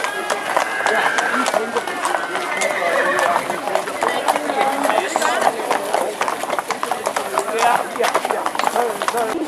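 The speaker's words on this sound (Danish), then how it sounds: "Jeg elsker det er også flotte heste" Horses at an agricultural animal show clip-clop with brisk, rhythmic hoofbeats and occasional whinnies, close and loud, while people talk over them.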